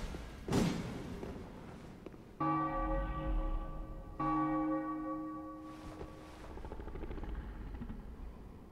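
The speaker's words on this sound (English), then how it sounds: "Hold up axe and wave to emit a solemn chime" Solemn bell chimes from a feast bell weapon in Dark Souls III, the axe held up and waved; two sustained, ringing strikes with long harmonic decay follow a sharp thump, loud and clear over a low game rumble.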